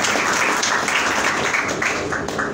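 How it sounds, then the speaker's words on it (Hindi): A crowd applauds heartily at a community gathering in Tando Jan Muhammad, dense continuous clapping filling the room, loud and steady throughout. "इनके लिए एक दफ़ा भरपूर तालियां"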